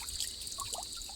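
Water flows in a steady, faint trickle at an outdoor spot in the Philippines, a continuous soft wash with no voices over it.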